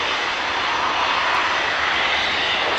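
A Harrier jet passes at an airfield airshow with a loud, continuous broadband engine roar, close and filling the air, with no voices.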